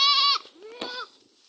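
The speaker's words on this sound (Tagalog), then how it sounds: "Kukunin na po nila yung kambing." Goats being fetched from a backyard give two close, fairly loud bleats in quick succession, the first longer and wavering, the second shorter.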